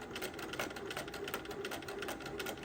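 A home sewing machine stitching steadily at moderate speed while free-motion quilting layered fabric around embroidery, giving a continuous close, buzzy mechanical hum with a fast needle rhythm and no talk.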